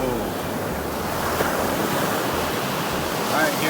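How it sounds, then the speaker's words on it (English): Ocean surf rolls and breaks on a beach in a steady broad wash, with wind buffeting the microphone and a faint voice briefly audible near the end. "Is the wave gonna get you?"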